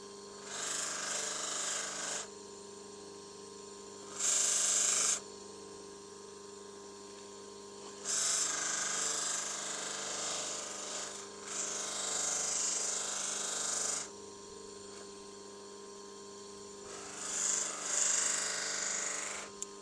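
Tormek knife sharpener grinding a knife's stainless or plastic handle in bursts, several scraping passes of a few seconds each separated by pauses, over a steady machine hum, fairly quiet and close.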